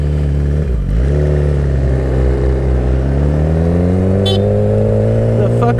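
A car passes close by a motorcycle on the road during a laid-back Halloween group ride. The motorcycle's engine drones loudly and steadily up close, its pitch rising gradually.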